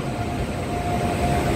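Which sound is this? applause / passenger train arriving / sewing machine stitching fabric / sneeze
passenger train arriving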